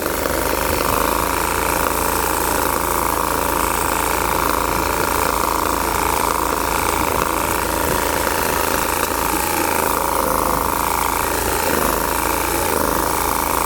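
A Bolens 1600H lawn tractor with a Briggs & Stratton 20HP V-twin engine runs steadily close by, a loud constant drone and mechanical whir with no changes in pace, warming up its hydrostatic transmission.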